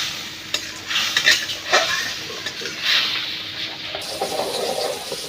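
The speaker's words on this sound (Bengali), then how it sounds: "মশলাটা একটু কষাই নেই।" Turmeric and chili spice paste frying in a pan while being stirred, steady close sizzle with bursts of scraping and clinking strokes, no voices.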